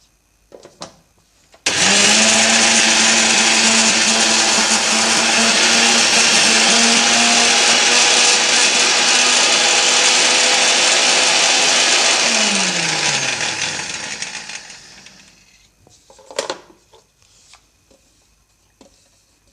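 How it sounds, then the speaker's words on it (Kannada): A mixer grinder grinds niger seed (gurellu) into chutney powder, a loud steady whine running about thirteen seconds before winding down, followed by a few short clatters of the jar being handled. "ಈಗ ಮತ್ತೆ ಇದನ್ನು ಗ್ರೈಂಡ್ ಮಾಡಬೇಕು"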